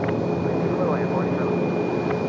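A United airliner from Newark comes in to land at Raleigh-Durham airport, heard as a steady, broad jet roar that fills the whole stretch, with faint voices underneath.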